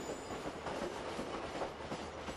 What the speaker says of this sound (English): the train continues in a northeasterly direction, leaving behind Kamloops